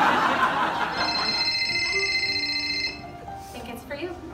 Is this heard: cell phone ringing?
yes